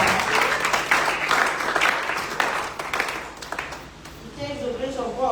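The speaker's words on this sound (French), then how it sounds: "Est-ce que vous pouvez applaudir papa?" Family gathering applauding a father just back from the United States, clapping steady through most of the moment while voices talk over it, the applause thinning near the end as speech takes over.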